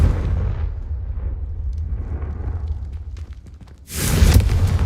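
Confringo blasting spells burst against candelabras in Hogwarts Legacy, a rumbling low explosion that fades and then a sharp, loud second blast near the end.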